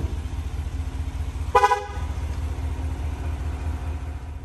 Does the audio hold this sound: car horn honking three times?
yes